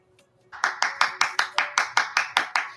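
One person claps hands close by, about ten sharp, evenly spaced claps in a quick steady rhythm after a short quiet start.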